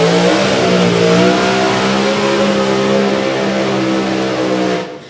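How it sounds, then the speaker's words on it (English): Drag racing car doing a burnout at a live racing event, loud roaring engine with rising revs held near and steady for about five seconds before cutting off. "Next pair going to be David Vector just doing his burnout"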